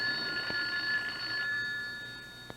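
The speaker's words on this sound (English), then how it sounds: "Answer the phone." An old-style telephone bell rings in a sustained metallic trill that fades out after about a second and a half, heard indoors at moderate distance with no voices over it.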